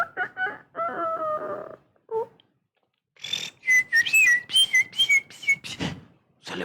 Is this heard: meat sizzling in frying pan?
no